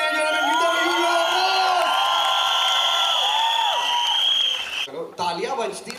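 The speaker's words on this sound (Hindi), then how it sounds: "Please, ladies and gentlemen, give them a huge applause." An audience at a film song launch event cheers, whoops and shouts over loud sustained applause, with high excited voices ringing out before the noise drops suddenly near the end.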